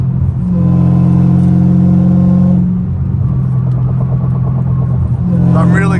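A Dodge Challenger Hellcat Redeye with straight-piped exhaust cruises on a highway, its loud, steady low droning rumble filling the cabin, the engine note shifting midway as it settles, then rising again at the end.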